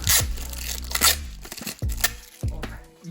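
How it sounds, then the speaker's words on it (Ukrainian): Adhesive tape torn off a roll in several quick ripping bursts, close and crackly, with brief pauses between pulls. "як вам звук скотчу?"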